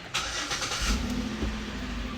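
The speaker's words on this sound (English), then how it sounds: "Let's go ahead, start the car." A car engine is started during a radiator and cooling system flush: a sudden starter crank catches, then settles into a steady, close mid-pitched idle hum with no talking.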